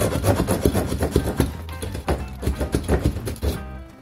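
An old faucet pipe is being cut by hand, a close rhythmic rasping of repeated back-and-forth strokes that stops abruptly at the end.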